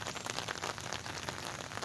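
Rain falls steadily and softly, a faint close patter spread evenly across the whole moment with no voices.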